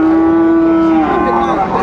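A bull at a cattle market for Friesian and crossbred bull calves lets out one loud, close, sustained moo that drifts down in pitch toward the end.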